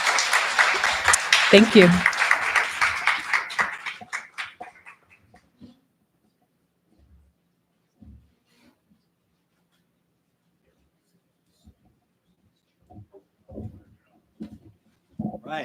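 Loud audience clapping at a launch party fills the opening seconds, then fades out, leaving near silence broken only by a brief spoken thank-you and a few faint noises.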